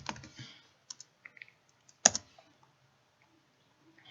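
Arrow keys tapped on a computer keyboard, a few sparse, quiet clicks spread out, with one sharper keystroke in the middle and silence between.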